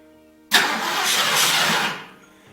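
An old Ford Mustang engine cranks and catches in a single loud, close burst of about a second and a half that cuts off abruptly, with no talking.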